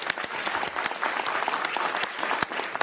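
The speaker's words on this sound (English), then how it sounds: "Y'all clap." Applause from an audience at a congressional UFO disclosure hearing, a steady dense wash of many hands clapping that carries on without a break, fairly loud and with no voices over it.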